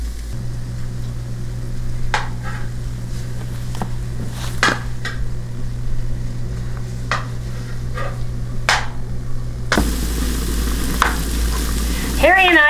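Spam slices fry in a pan until browned and glazed for a cauliflower au gratin casserole, a low steady sizzle broken by sharp utensil scrapes and clinks, then louder clattering near the end.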